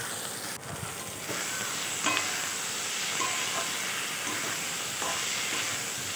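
Onions sizzle and crackle steadily in a hot, oiled pan while sugar is added for a mutton curry, with occasional scrapes and knocks from stirring over the continuous frying hiss.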